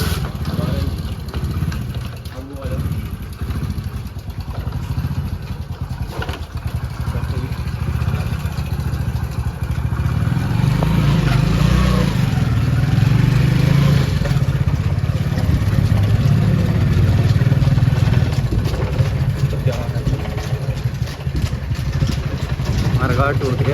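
Motorcycle engine idling and running steadily, fairly loud and close, with a rough low-pitched rumble and clatter throughout, in a rural Indian setting with people talking nearby.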